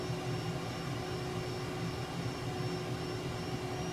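Steady jet engine drone of an EA-18G Growler in Microsoft Flight Simulator 2020, flying a low-level route, a continuous broadband roar with a constant high whine, unbroken and alone for the whole stretch.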